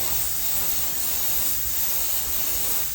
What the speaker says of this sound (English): I will start spraying here